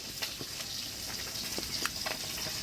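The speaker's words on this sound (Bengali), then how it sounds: "মাছগুলো লাল করে ভেজে নিলাম" Fish frying red in hot oil in a village kitchen, a steady close hiss of sizzling with occasional small pops and crackles throughout.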